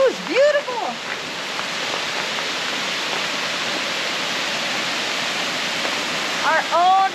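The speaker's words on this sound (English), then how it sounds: "you can probably hear the waterfall in the background" Steady rushing water of a clear-water waterfall on a South Pacific island, a broad continuous hiss heard in the background while excited voices and whoops break in at the start and end.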